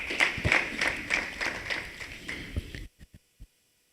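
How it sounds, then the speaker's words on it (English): An audience at a college event claps in a brief, fairly sparse burst of applause that stops abruptly, leaving a few last isolated claps before silence. "Can you please give them a round of applause?"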